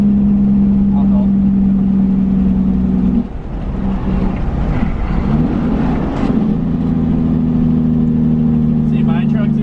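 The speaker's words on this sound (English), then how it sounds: "See, my truck's exhaust is literally, yeah, right there." A truck engine idles loudly right beside the exhaust with no sleeper fitted, a steady low droning hum that dips briefly in the middle before returning, while people talk over it.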